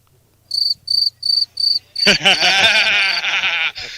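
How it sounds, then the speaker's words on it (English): A played cricket sound effect gives four evenly spaced high chirps alone, followed by a denser burst of overlapping chirring and bleat-like calls, loud and close. "where's those crickets?"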